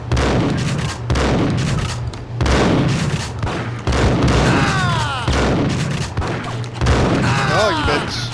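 Gunfire in the video game Max Payne, a run of loud, rapid shots and booms repeating across the whole stretch, with a voice briefly heard among the blasts.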